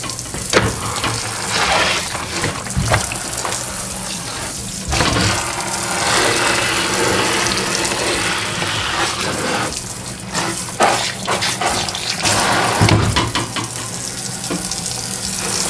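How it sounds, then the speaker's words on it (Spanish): Beef ribs for birria are rinsed under running water in a kitchen: a continuous splashing, hissing stream with a few louder gushes and clatters as the meat is moved about. "nomás lo vamos a enjuagar. Le enjuagamos."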